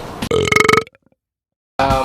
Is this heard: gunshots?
no